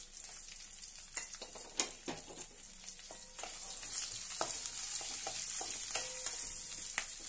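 Sliced green chillies and cashew nuts fry in hot oil in a pan for coconut rice, giving a steady close sizzle with occasional sharp crackles and pops. The sizzle grows slightly louder partway through, and no one speaks.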